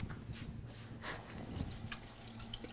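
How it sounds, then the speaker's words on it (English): Hands are rinsed under a running kitchen tap, a steady, soft rush of water splashing into a sink with faint drips, fairly close and continuous, no voices. "I'm going to rinse my hands"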